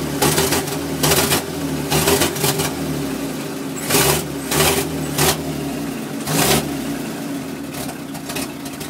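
Cold COE (cab-over-engine) truck engine running with the clutch engaged: a steady mechanical idle with a whirring gear, punctuated by repeated louder bursts of rattle or revving, close and continuous.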